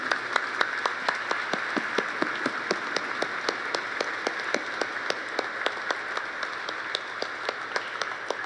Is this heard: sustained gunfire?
no